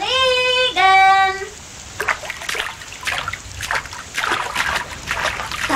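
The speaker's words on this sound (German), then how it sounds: "Da plätschert doch was im Weiher." Water splashing and trickling in a pond, irregular small splashes and sloshes at moderate distance, following a brief sung or whistled tonal phrase at the start.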